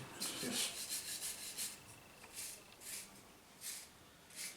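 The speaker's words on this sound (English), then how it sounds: "It's a bronze brush, and this opens the grain." A bronze brush scrubs across a wooden surface to open the grain, giving a series of quick, soft, hissing strokes in an irregular rhythm, close by and fairly quiet.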